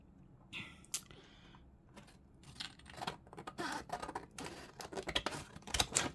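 Scissors snip around paper scraps in a quiet room, a run of crisp close cuts with paper rustling, some snips sharper and louder, no talk.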